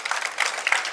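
Audience applauding during a religious discourse, a brief burst of scattered, mid-distance clapping from a gathered crowd, fairly soft and uneven across about a second.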